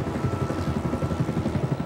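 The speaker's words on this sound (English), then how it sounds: "The chopper spins in response to the pilot depressing one of two foot pedals." Helicopter rotor blades chop steadily in a fast, rhythmic low thumping, a continuous mid-distance drone without voices.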